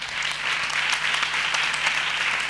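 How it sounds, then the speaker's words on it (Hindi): Congregation applauding at a Hindi-language church service, a steady wash of clapping from many hands at moderate level, continuous for the whole stretch with no voices over it. "छोटा विश्वास छोटा ताली"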